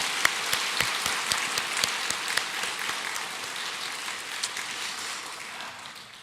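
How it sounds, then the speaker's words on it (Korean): A church congregation at a Korean worship service claps in thanks for its teachers, a dense patter of applause with a few sharper claps standing out, gradually thinning toward the end. "우리 다음 세대를 위해서 교사로 섬기시는 우리 이분들 함께 하셨는데, 우리 감사의 박수로 함께 하셨으면 좋겠습니다"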